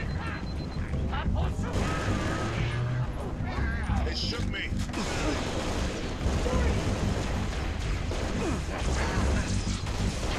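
Chaotic Halo: Reach gunfire during a PC firefight, dense bursts and impacts crashing through the whole stretch, mixed with other game effects and a voice talking over it.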